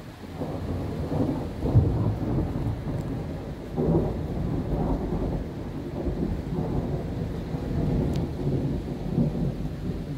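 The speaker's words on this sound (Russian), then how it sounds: "Гром и молния." Low thunder rumbles roll repeatedly through steady heavy rain during a warm, overcast evening storm in Lazarevskoye, Sochi, loud and continuous with no voices.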